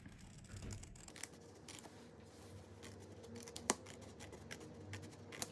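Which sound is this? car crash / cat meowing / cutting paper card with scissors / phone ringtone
cutting paper card with scissors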